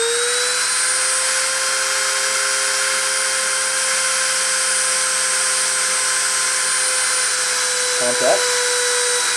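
A CNC spindle runs at 30,000 RPM during deposition, making a steady, piercing high whine with a constant tone throughout. A voice speaks briefly near the end.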